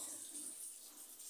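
Tap water runs steadily over an old pan lid as it is rinsed at a sink, a continuous hissing splash with no voices.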